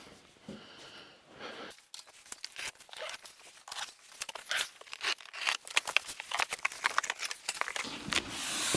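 Cardboard box for a Gorilla 7 cu. ft. heavy-duty poly yard dump cart being cut and torn open, close-up, with a rapid irregular series of sharp slicing, ripping and crinkling bursts growing busier toward the end.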